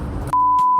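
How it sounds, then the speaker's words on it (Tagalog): One clean, steady electronic beep sounds loud and close for about half a second, following a moment of muffled background noise. "Beep beep."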